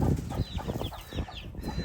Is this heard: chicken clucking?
yes